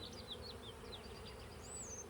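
Bees buzz steadily around an open hive box during a colony split, a dense continuous hum with a few higher individual whines darting past close by.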